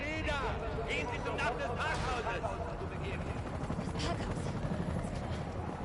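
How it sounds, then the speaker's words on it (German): In the video game Resident Evil 3, a helicopter's rotor thrums beneath a voice talking, with bursts of gunfire scattered through the busy, noisy scene. "Das ist ein Helikopter, der Sie in Sicherheit bringt."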